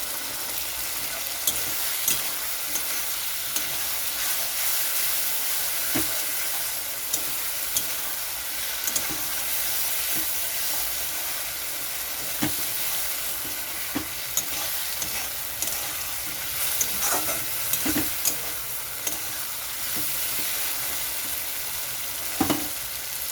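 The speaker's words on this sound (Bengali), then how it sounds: "এখানে আলুটা সিদ্ধ হয়ে গেছে। তো আরও একটু কষানো হবে।" Boiled potatoes stir-fried in a pan for papad potato curry: a continuous close sizzle and hiss with frequent scraping and tapping of a spatula against the pan, no talking.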